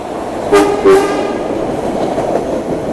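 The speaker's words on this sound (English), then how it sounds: "Here comes the train again." A passing train with two short horn blasts near the start, followed by a steady rolling rumble of railcars going by, heard without talk.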